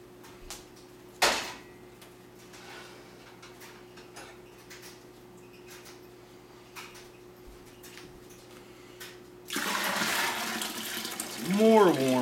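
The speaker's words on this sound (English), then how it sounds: "add some warm water." Warm water pours steadily into a fermentation bucket for honey wine, a broad rushing splash rising in the second half and swelling near the end, preceded by faint room noise and scattered small clicks.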